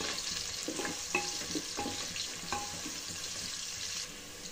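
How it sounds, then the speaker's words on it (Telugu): Chopped onions and green chillies frying in a pan for a vegetable dal biryani, a steady hissing sizzle with occasional spoon clinks and stirring scrapes throughout, close and continuous. "ఈ ఆనియన్ అంతా ఒకసారి కలుపుకొని గోల్డెన్ బ్రౌన్ కలర్ వచ్చేంత వరకు ఫ్రై చేసుకోవాలండి"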